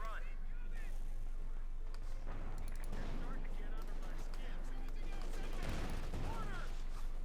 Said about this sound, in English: Taking loss there from sniper and tank fire.